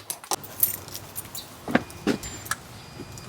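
Keys jangle in short metallic bursts, pulled from a pocket during monthly fire alarm, generator and emergency lighting system testing, close and fairly quiet with several separate rattles and no talking.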